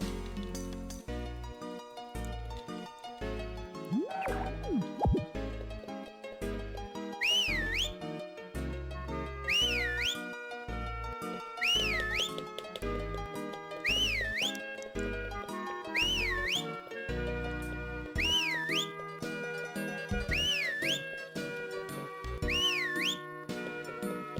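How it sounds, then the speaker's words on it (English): Whistling along to the cheerful game soundtrack of Harvest Moon: Magical Melody, repeated rising and falling whistled phrases recurring roughly every couple of seconds over bouncy synth music with a steady beat. "Yeah, we're just whistling along."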